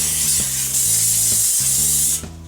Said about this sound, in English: Now, give it a good grease with some cooking spray oil.